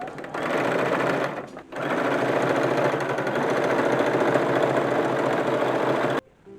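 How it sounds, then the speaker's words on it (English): A sewing machine runs a decorative stitch with white thread along the boning channels of an 1860s-style pink corset, a loud, close, continuous whirring hum with one short pause. "So, I'm going to keep the white thread in here and we'll just make it a decorative stitching."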